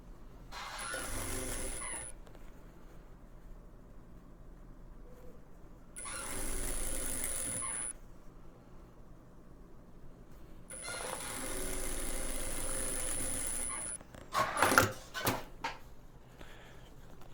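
A sewing machine stitches patchwork fabric in three separate bursts of rapid whirring, with quiet pauses between them and some handling clatter of fabric and parts near the end.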